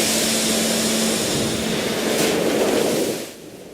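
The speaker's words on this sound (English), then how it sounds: "The Research Institute now has a new facility that can create artificial tsunami waves" Artificial tsunami waves surge through the water pool of a test facility at the Central Research Institute of Electric Power Industry near Tokyo, a loud steady broadband roar of rushing water that drops away near the end, with no voices.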